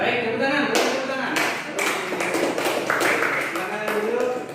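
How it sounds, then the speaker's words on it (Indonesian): Classmates clapping in a classroom after a group presentation, a dense patter of claps running steadily through the whole stretch with voices mixed in. "tepuk tangan, tepuk tangan"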